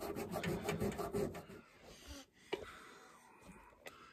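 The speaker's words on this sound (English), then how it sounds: "I'm going to take some Scotch-Brite to it." A Scotch-Brite pad scrubs old gasket material off a Homelite Super XL-923 82cc chainsaw, a close, quiet, rapid rasping that fades into scattered scraping strokes.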